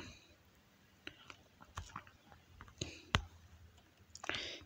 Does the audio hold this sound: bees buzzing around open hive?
no